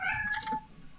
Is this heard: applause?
no